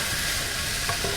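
Onions frying in a pan for Thai fried rice give a steady, close, broadband sizzle throughout, with faint stirring or scraping touches near the end and no speech.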